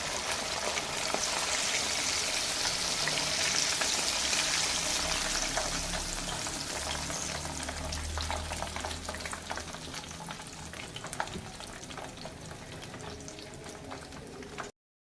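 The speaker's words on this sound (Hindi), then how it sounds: "अब हम इसे निकाल लेते हैं और दूसरे को भी फ्राई कर लेते हैं।" A whole Lahori chargha chicken fries in hot oil, giving a dense, continuous close sizzle with crackling pops throughout and no talking.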